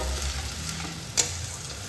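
Onion paste fries in oil in a pan for a katla fish kalia. It gives a soft continuous sizzle with a single clink of a stirring spoon, and no voices.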